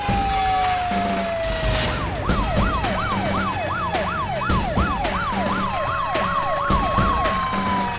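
A Mumbai police car siren wails loudly and close by, a rapid rising-and-falling electronic whoop repeating in a steady cycle for several seconds over faint vehicle rumble, with no voices.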